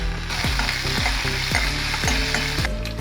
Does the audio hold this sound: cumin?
yes